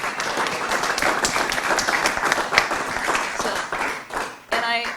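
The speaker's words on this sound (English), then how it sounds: "So if you could just give her a nice gentle round of applause." A crowd claps in steady, dense applause for several seconds, the sound broad and even before briefly dipping and resuming.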